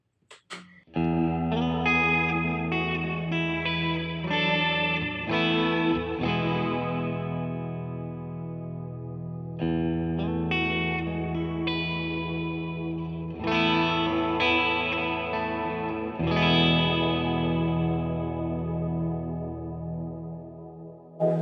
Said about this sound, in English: And then of course the modulated reverb, which actually is probably my favorite.